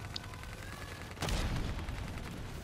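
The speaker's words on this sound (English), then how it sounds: "let's just keep shooting the generator" Gunfire strikes a generator in the Call of Duty Black Ops 3 video game, one sharp blast cutting through steady background game noise and leaving a lingering rumble.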